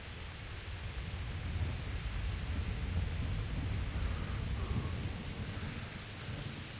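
Rain falling in the medieval video game Kingdom Come: Deliverance, a steady, dense hiss of rainfall with a low rumble underneath, continuous and fairly quiet, with no talking.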